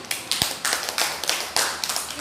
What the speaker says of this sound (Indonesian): berikan tepuk tangan untuk temannya